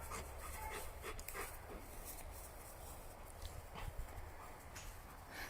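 A four-year-old sniffer dog named Alpha, trained for explosives detection and personal protection, pants steadily and rapidly close by, with a few faint thuds and shuffles mixed in.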